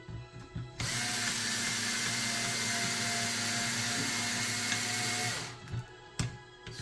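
A small, light Ryobi power tool whirs at steady speed for several seconds during house wiring work, a continuous high buzzing that starts abruptly and winds down, with quieter handling noises before and after.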